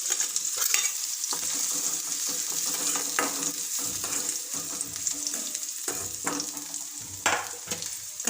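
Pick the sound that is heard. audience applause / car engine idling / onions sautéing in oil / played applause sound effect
onions sautéing in oil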